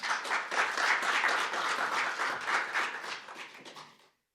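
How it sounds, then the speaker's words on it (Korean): Warm audience applause at a human rights day seminar welcoming an opening speaker, a full steady clapping that holds for about four seconds before fading out quickly to silence. "뜨거운 박수로 환영해 주시기 바랍니다"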